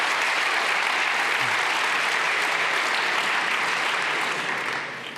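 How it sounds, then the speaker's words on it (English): Sustained applause from a conference audience at a Python and data lightning-talk session, dense and even at close range with no speech over it, tapering slightly at the very end. "a big round of applause."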